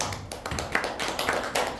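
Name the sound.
applause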